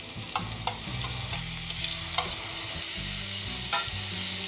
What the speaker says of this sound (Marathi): हाय फ्लेमवरच या भाज्या परतून घ्यायच्या आपल्याला किम्यासोबत